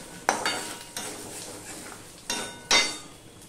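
Potato and carrot stirred in a pan, with a spoon scraping and knocking against metal in a few distinct strokes over a faint background hiss.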